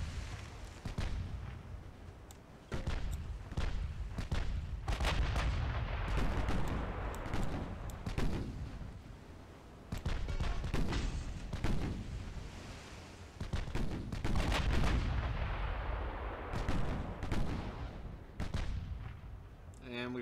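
Heavy naval gunfire rumbles and booms almost continuously in Ultimate Admiral Dreadnoughts, with dense overlapping cannon blasts and artillery shots near and loud, a talking voice partly heard beneath the barrage.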